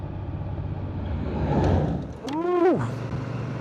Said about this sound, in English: These big trucks.